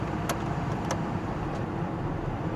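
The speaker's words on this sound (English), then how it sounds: "I mean, the engine sounds healthy." A car engine idles steadily with a low, even rumble, close by and constant, with a couple of faint clicks over it; the car is a Ghostbusters-style car bought at an insurance auction.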